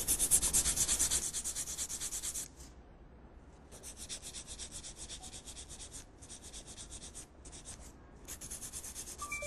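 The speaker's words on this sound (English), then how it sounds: "You don't want to file the fingernail from here because when you go to file from here, sometimes you over file the sidewall." A nail file worked along the sidewall of a fingernail in a nail-art class: short, repeated raspy strokes, close and fairly quiet, broken by brief pauses between passes.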